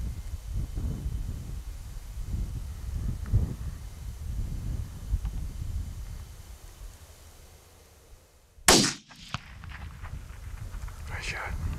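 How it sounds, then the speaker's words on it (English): A single sharp, loud rifle shot rings out during a North Texas buck hunt, a sudden broadband crack with a short echoing tail. It follows quiet outdoor ambience with faint whispering and rustling. "Devin steadies the rifle to make a shot"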